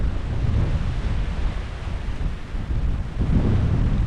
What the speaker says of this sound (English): You can still hear me, sorry about the wind.